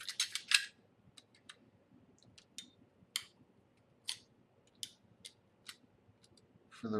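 Scissors snip through leather for a tomahawk sheath, a quick burst of close, crisp cuts followed by scattered single snips in near silence.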